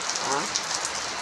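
Steady morning rain pours onto surfaces outdoors, a dense, even hiss of drops with no breaks, fairly loud and close throughout.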